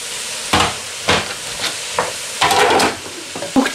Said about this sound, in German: Und dürfen dann natürlich auch noch ein bisschen da anbraten.